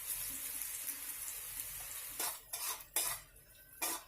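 Utensil scraping and clinking in a pan as turmeric powder, coriander powder, red chili and salt are stirred into hot oil for samosa filling, with a few distinct bursts of metal-on-pan contact over a low steady background.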